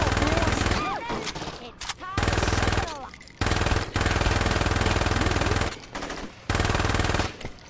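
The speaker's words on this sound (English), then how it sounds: "That was just him getting shot." Loud automatic gunfire from the video game Saints Row 2 comes in dense sustained bursts. Short gaps of quiet separate the bursts, and bits of game effects sound alongside.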